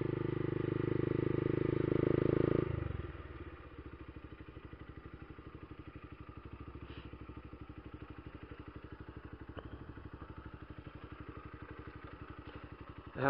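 A Honda Fan 150 ESDI 2015 motorcycle with a G-Scape exhaust idles close by with a steady, throbbing mid-pitched rumble. A louder rev at the start drops back to an even idle that continues alone.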